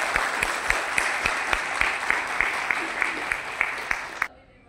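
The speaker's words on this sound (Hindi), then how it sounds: "Applause was for you." An audience at a journalism award ceremony in Lucknow, the Maharishi Mahesh Yogi Excellence Award 2025, claps steadily and fairly loudly for about four seconds, with a few sharp claps standing out, before the applause stops abruptly.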